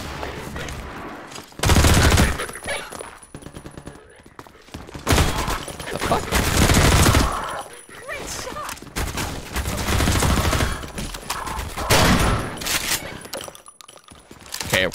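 Gunfire in Half-Life 2: Episode One comes in loud bursts of rapid shots with clattering impacts, broken by short pauses, while a player talks over the game action.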